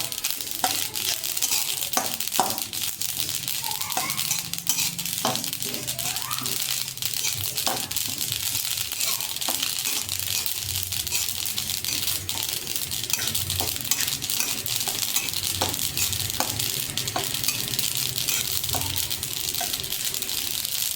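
Sesame seeds roasting in a kadhai for chikki, stirred continuously with a steady dry sizzle and repeated scraping and rustling strokes throughout, fairly close and even, with no voices over it.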